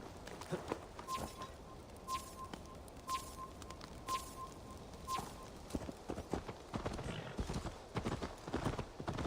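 Rhythmic in-game horse hooves clip-clop at a steady walking pace in Assassin's Creed Valhalla, close and clear, with a faint tonal hum and occasional soft rustles.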